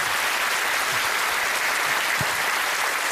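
Warm, sustained applause fills the room from a large audience at an evening meditation talk, a continuous even wash of many hands clapping with no voices on top.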